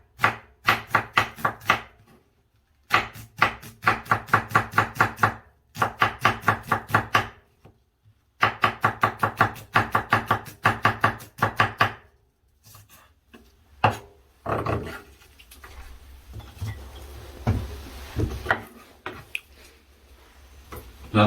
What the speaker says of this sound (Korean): 양파를 자를 때는 중식 스타일로 칼질 하는 게 좋겠죠?